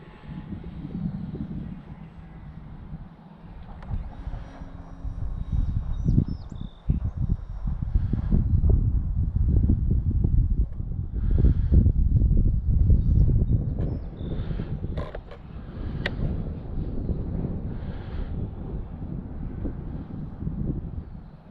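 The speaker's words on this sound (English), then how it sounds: "Very windy." Strong wind buffets the microphone in low gusty rumbles while a V-22 Osprey aircraft drones nearby, the roar steady and loud throughout with no talking.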